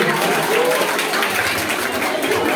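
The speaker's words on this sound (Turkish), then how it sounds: "Şöyle kuvvetli yeni bir alkış alalım mı" Guests at a Trabzon-Giresun style wedding in a Çengelköy wedding hall clap steadily, producing a dense, even wash of applause that holds at the same loudness throughout.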